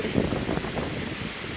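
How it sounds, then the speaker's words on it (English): Strong wind on the Appalachian Trail, a steady, loud broadband roar with gusty buffeting against the microphone and no voices. "It's just incredibly windy, but this thing has been great."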